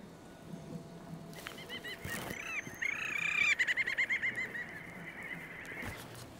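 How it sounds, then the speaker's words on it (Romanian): Bird calls from a flock, played from an exhibit recording in Tromsø, Norway: honking fowl-like cries with a rapid burst of repeated notes in the middle, over steady background noise. "Ca și aici putem auzi sunetul acestor păsări."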